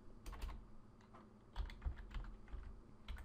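Quiet, close typing on a computer keyboard, a steady patter of light key clicks with small bursts and brief pauses.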